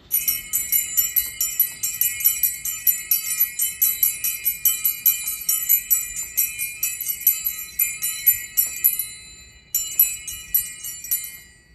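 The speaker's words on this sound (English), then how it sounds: "today I'm going to ring 2 bells" Two bells struck repeatedly in a calm morning setting, bright ringing tones that each bloom and decay in a steady rhythm before a short pause and a final strike, clear and close with no talking.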